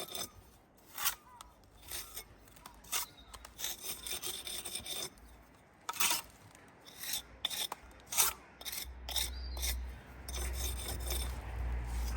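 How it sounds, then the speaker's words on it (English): A trowel scrapes mortar off a brick pier in repeated rough, rasping strokes, close and fairly loud, with a low rumble near the end. "Let that lovely bit of a scrape off the little bits and pieces"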